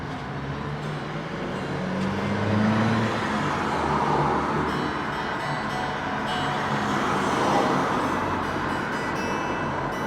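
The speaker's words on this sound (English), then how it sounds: "We have a traffic noise outside, something we're going to have to put up with." Steady traffic noise from outside drifts in through open windows, a continuous broadband rumble of passing vehicles that swells and fades slightly, heard alone in a room where a Fender '72 Telecaster Deluxe is being repaired.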